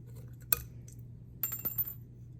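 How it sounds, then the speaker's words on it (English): Glass stir rod snapping during soil lab mixing: a sharp single glassy crack, then a short cluster of small clinking, tinkling glass fragments over a faint low hum. "my stir rod has broken"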